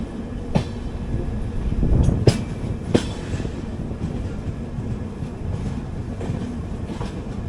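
The 12777 Hubballi Kochuveli Weekly Express, an AC economy coach, rumbling steadily along the rails with a constant low roar and a few sharp clacks and knocks from the wheels over track joints.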